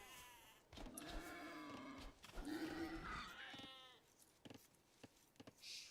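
Several sheep bleat in the Age of Empires video game, wavering calls that overlap in the first half and then thin out into faint clicks and short game sounds.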